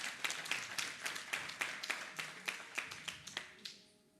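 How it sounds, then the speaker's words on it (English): A small conference audience claps in a round of applause at a cybersecurity conference and exhibition, distinct individual claps in a brisk rhythm, fairly close, thinning out and fading away near the end. "can we give them a round of applause,"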